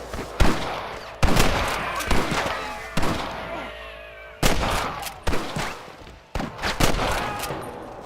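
Repeated gunfire from a Western shootout in the video game Red Dead Redemption, sharp loud cracks in irregular bursts and volleys throughout, with game voices and chatter underneath.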